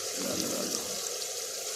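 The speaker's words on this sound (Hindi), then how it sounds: "इसमें हम पानी ऐड करेंगे।" Water poured into a chicken karahi cooking with Shan karahi masala, a steady close rushing splash that runs without a break under the cooking.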